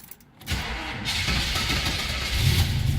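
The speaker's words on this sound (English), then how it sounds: "I'm going to slip around and fire this up for you so you can hear that 383 rumble." A 1972 Chevrolet Nova with a 383 V8 cranks and catches, then settles into a loud, steady rumbling idle close by, with no talking.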